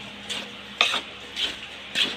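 Polvoron cake ingredients being stirred and mixed by hand in a bowl, four separate brief scraping strokes spaced irregularly, close and fairly quiet over a faint background hum.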